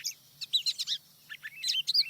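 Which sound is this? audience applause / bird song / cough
bird song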